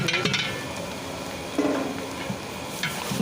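Vegetables with turmeric and green chillies sizzle steadily in hot oil in a pan, with a continuous close frying hiss and occasional stirring scrapes and clinks.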